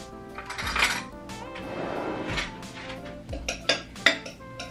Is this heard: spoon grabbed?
yes